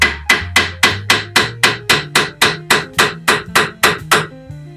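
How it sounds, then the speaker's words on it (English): Steady, evenly spaced hammer taps, about a dozen sharp ringing metal strikes, hitting stuck strut bolts on a 2008 Kia Sportage, close and loud with no talk. "Okay, I got a hammer. Now I can tap these bolts out."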